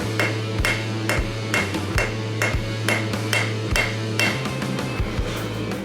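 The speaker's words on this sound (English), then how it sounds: "getting those accurate hammer strikes so that when you're hitting it right, like on the leaf" A hammer forges a hot steel leaf on an anvil, with about a dozen sharp, ringing strikes in an even rhythm, each leaving a brief metallic ring over a steady low hum.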